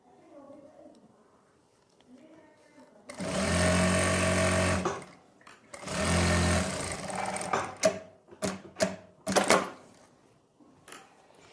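Two sustained bursts of domestic sewing machine stitching while fitting elastic into a garment, each lasting a couple of seconds, followed by short clicks and handling knocks, with someone talking quietly before and between.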